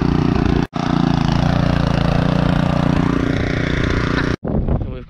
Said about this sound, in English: Crank them up. Now you've got the arm to engage the rotavator.